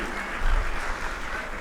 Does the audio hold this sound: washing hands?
no